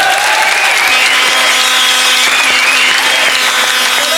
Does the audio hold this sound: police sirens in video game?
no